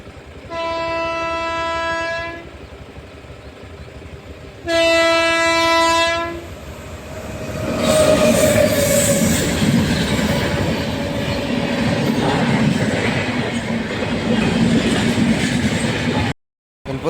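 A train at a railway crossing sounds two long horn blasts, then rumbles past loud and close with rolling wheel clatter and faint squeals for about ten seconds, ending in a sudden cut.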